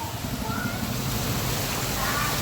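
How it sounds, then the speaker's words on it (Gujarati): Rain beginning outdoors in Surat makes a steady, dense hiss of falling drops that stays even for the whole short stretch, with no clear voices. "બહાર અત્યારે વરસાદ ચાલુ થવાની તૈયારી થઈ ગઈ"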